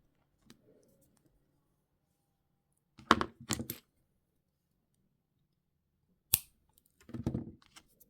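Jewellery wire is snipped with small cutters in a quiet room: a few faint, sharp clicks and snips come in short clusters, separated by near silence.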